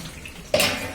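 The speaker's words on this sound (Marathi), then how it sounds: "जरा जास्तीचं पाणी ओतायचं," Water is poured through an air cooler during cleaning, and after a brief quiet moment a sudden splashing gush begins and keeps going.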